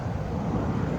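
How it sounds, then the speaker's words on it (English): Low-flying Southwest airliner coming in to land near an airport, a steady broad engine roar held at constant loudness throughout, fairly close, with no talk over it. "Southwest is landing right there."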